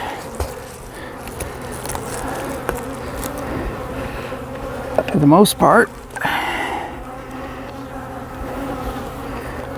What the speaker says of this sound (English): other than the bees aren't very happy with me